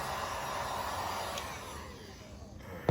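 A heat gun blows steadily close by while warming car trim adhesive on a Civic Si, its airy whir holding constant before easing slightly at the end.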